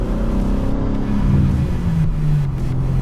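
A 2024 BMW M3 Competition with turbocharged engine accelerates on a road trip, heard from inside as a loud, steady engine drone whose pitch climbs smoothly over about three seconds, with no talking.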